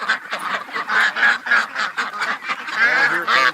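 A flock of ducks on a homestead honking and quacking in a dense, overlapping chorus as they approach, close and loud, with repeated calls throughout and no talking.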